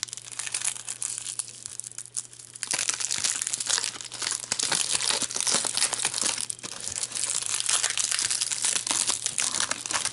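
Crinkling and tearing of a 1992 Pacific NFL football trading card pack wrapper as it is opened, a steady close crackle of foil-like plastic running throughout, louder and denser after the first few seconds, with no talking.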